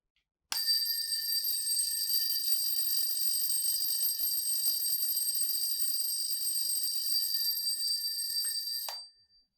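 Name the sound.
electric bell ringing in science class demonstration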